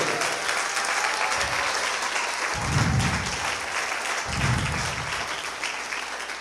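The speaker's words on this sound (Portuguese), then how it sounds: "Se você vai aplaudir, aplauda forte ao Senhor." Church congregation applauding during a sermon: steady broadband clapping throughout, swelling into two louder bursts, with low rumbles of crowd movement beneath.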